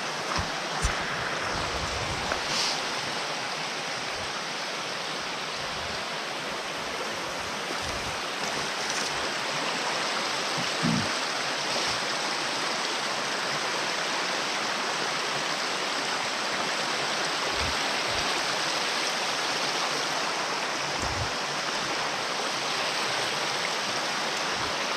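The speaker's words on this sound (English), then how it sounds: "I gotta get away from this creek." A creek rushes in a steady, broad wash of flowing water on a spring turkey hunt in New York woods, continuous and close with a few faint knocks and footsteps, and no talk.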